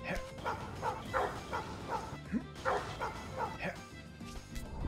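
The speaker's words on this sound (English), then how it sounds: "This dog's barking." A small dog barks and yips repeatedly in quick bursts, loud and close, mixed with some whimpering and occasional speech.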